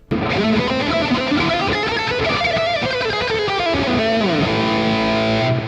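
Heavily distorted metal guitar through a Tonocracy amp model with ping pong delay placed behind reverb, playing a loud, continuous riff with bouncing echoes that trail off into a sustained ringing tail at the end.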